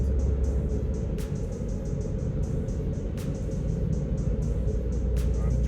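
A car drives along a road on the way to work, with a steady close engine and road rumble throughout and a few faint ticking sounds.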